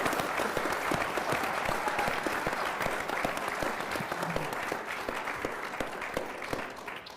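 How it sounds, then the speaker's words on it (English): Sustained applause from a crowd fills the whole stretch, dense and steady clapping that carries on without a break. "So please give a round of applause to Tabitha"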